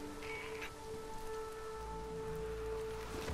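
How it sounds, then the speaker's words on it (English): Rain falls steadily across a surface in the post-apocalyptic open-world game Days Gone, a continuous hiss of drops with a faint tonal ambient hum beneath and no voices. "Seems like it's always raining out here."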